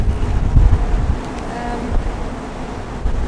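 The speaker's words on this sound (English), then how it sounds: "It's a little windy." Steady wind buffeting the microphone with low rumbling gusts, loudest early on, with faint distant sounds underneath, on a summer walk in the Mourne Mountains, Northern Ireland.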